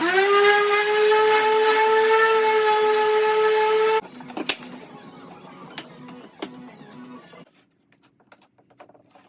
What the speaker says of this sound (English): I just planed some purple heart down to 1/4 inch